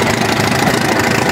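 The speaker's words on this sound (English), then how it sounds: "That's another happy engine" Antique engine running at a fall engine show, a continuous loud chugging idle close by with a dense knocking rhythm and no pauses.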